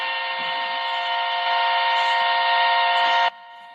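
A horn alarm sound effect on a live stream blares as one loud, sustained, steady honking tone for about three seconds, then cuts off abruptly.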